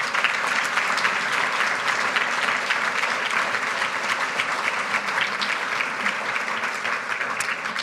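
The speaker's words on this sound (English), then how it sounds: "let's give the entire panel here another round of applause." A conference audience at a patient-focused drug development meeting applauds the panel, steady dense clapping from many people that holds at an even level throughout.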